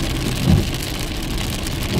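Steady rain patters in a dense, constant hiss, with a low rumble swelling briefly near the start.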